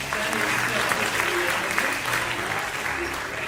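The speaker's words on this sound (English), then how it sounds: "Let's give Xander a round of applause." Audience applause at a magic and illusion show, a dense sustained roar of many hands clapping with crowd noise, loud and even throughout as a volunteer is welcomed onstage.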